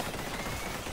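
Dense, rapid gunfire from the guns weapon in Vampire Survivors, a continuous rattling barrage of overlapping shots, loud and unbroken throughout the brief moment.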